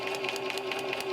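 A sewing machine stitches a paper-pieced quilt seam at a quick, steady pace, its needle ticking in even rapid pulses over a constant motor whine, close and clear with no talk.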